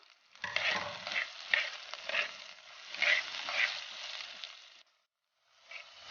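Taro stem curry with salt and green chillies being stirred in a pan, soft scraping and sizzling strokes in uneven bursts, moderately close, trailing off into a brief silence before one last stir.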